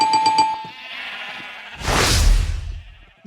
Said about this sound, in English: I turned down friendly mob sounds because those sheep are really loud